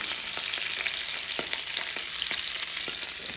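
Butter sizzles and crackles steadily in a hot frying pan, a dense broadband hiss with scattered sharp pops, close and fairly loud with no voices.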